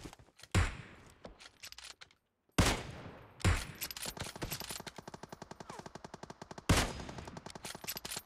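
Gunfire in PUBG Mobile: sharp single shots and heavy bangs give way to sustained rapid automatic fire, with a few louder blasts standing out. It is loud and near, and no one speaks over it.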